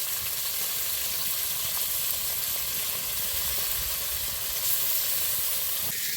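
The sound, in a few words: amadi fish frying in a pan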